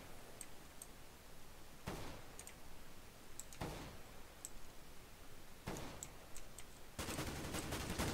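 Bursts of gunfire in Counter-Strike: Global Offensive, several sharp volleys of rifle shots spaced a couple of seconds apart, with a heavier sustained burst near the end, all over steady game ambience with no talk.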